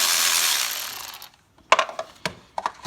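A ratchet wrench works a 12mm support bolt on an NS Pajero during a DIY intake manifold clean, giving several sharp, close ratcheting click bursts after a steady hiss dies away.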